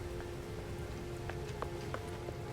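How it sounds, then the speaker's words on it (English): Toxic rain pours in the No Man's Sky video game, a steady hiss of falling rain with scattered individual drops pattering on a surface, moderately quiet and continuous throughout. "Pouring toxic rain"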